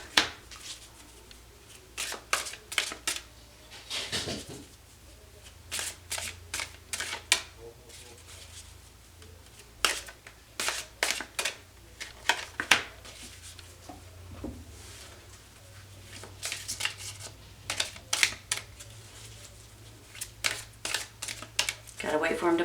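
Tarot and oracle cards being shuffled by hand, with repeated bursts of crisp riffling and slapping in irregular clusters throughout, fairly close and moderately quiet over a low steady background hum.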